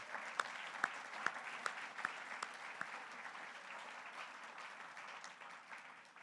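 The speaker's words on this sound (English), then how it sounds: "So please join me with a round of applause." Audience applause at the opening ceremony of the Caribbean Week of Agriculture 2023 starts with a few sharp, distinct claps, then swells into a steady, sustained round of clapping that slowly fades.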